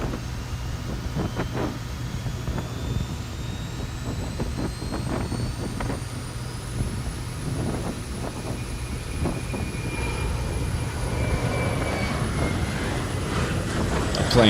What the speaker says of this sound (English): The plane flew by at the worst time.